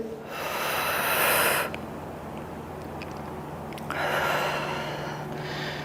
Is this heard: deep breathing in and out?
yes